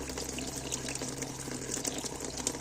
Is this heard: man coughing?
no